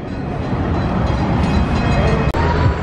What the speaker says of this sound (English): there goes the steam train going by